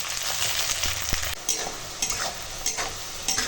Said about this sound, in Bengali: পেঁয়াজটা এখন একদম সুন্দর করে সোনালি করে ভেজে নেব